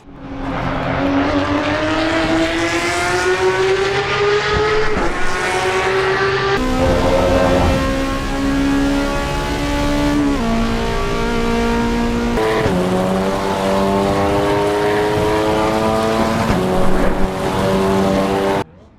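Race car engines in the sim racing game Assetto Corsa EVO scream loudly through rising gears, each upshift dropping the pitch before climbing again, with a faint tire squeal, steady and close without speech.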